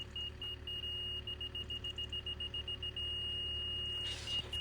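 A faint, steady electronic beep from a level receiver repeats rapidly and evenly over a low background hum, with a brief rustle near the end.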